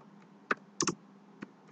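A few isolated key taps on a computer keyboard while writing C code, including a quick double press, sharp and fairly quiet against a silent background.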